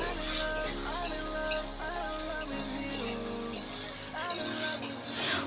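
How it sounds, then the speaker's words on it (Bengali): Oil sizzles steadily in a wok as red lentils lightly fry, with scraping stirring strokes and faint clinks, close by, alongside a tonal background melody. "এই তেলটুকু দিয়ে আমি মসুর ডালটা হালকা ভেজে নেব"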